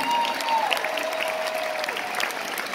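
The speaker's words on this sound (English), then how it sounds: "give everybody at Live Nation and Barry a huge round of applause now" Arena concert crowd applauding at a show, a steady, moderately distant roar of many hands clapping that holds evenly throughout, with a faint tonal hum beneath.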